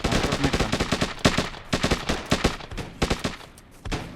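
Rapid bursts of gunfire crack in quick succession, loud and close, with brief pauses between volleys, like shooting in a video game, from a CS:GO-style map in Hurtworld.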